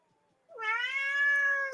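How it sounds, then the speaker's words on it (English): A cat lets out one long, loud, drawn-out meow close by, rising and holding steady before cutting off, with near silence before it. "That cat is loud."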